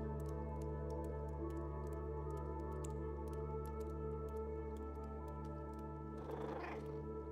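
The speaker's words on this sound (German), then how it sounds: "Die schnurrt schon wieder so leicht, die Katze." A cat purrs steadily in the video game Stray, a low continuous rumble throughout with faint ticking over it and a brief soft rustle near the end.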